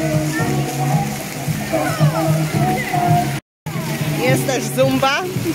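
Busy indoor aquapark with slides, a lazy river, jacuzzis and a splash zone: water sloshes and splashes under a steady wash of echoing children's and adults' voices.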